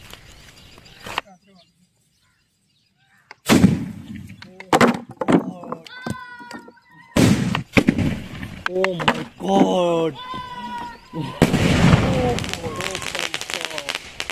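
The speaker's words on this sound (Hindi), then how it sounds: "बाल्टी यार पूरे गांव को हिला के रख दिया यार इस स्काई शॉट ने तो यार" Big skyshot firework set off in a village during Diwali, sharp explosive bangs and crackling bursts in quick succession, loud and close, with people talking and shouting over and between the blasts.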